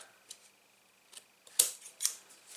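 Scissors trimming paper for a large gift box: a few faint, sparse snips and light paper rustles in a quiet room, with no talk.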